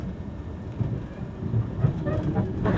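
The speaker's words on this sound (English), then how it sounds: "I want to give you an impression of the speed that this train's going at." A passenger train in France runs at speed with a continuous rolling rumble, rhythmic rail clatter and rising rushing noise, heard from inside the carriage with no talk.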